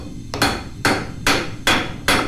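Five evenly spaced, loud hammer blows ring out alone, a steel hammer striking a coil spring being forged into a small knife blade, each impact sharp and bright with a short ringing decay.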